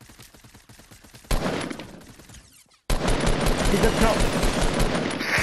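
Fortnite gunfire, close and loud: a light rattle of shots gives way to heavy, sustained automatic fire, with a short quiet gap before a fresh barrage. One voice speaks briefly.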